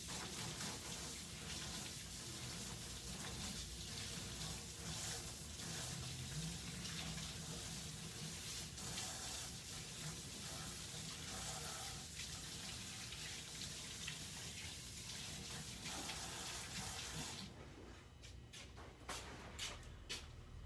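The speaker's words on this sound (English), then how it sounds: "Give me a second to rinse my hands off." Water runs steadily from a tap as someone rinses their hands, a continuous close splashing gush that lasts about seventeen seconds, then cuts off and leaves a few faint drips and handling sounds.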